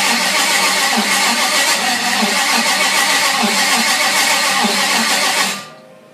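A Ford 302 V8 fitted in a Land Rover Series 2A runs loud and close with a steady, dense roar for several seconds, then cuts off abruptly near the end.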